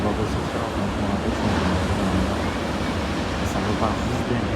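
Big ocean waves crash and roar at Nazaré during a surf championship, a continuous loud wash of surf with wind noise.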